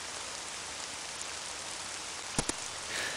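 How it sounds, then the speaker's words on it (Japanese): Heavy rain drumming on a roof in a Japanese horror adventure game, a steady, dense hiss of downpour with a couple of brief sharper taps near the end, no voices. "先ほどよりも一層激しくなった雨が屋根を打つ音がする。"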